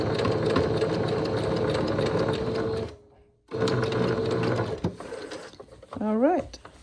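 A sewing machine runs loudly while stitching encased elastic, stops briefly, restarts for another run, then falls quiet. A short voice sound is heard near the end.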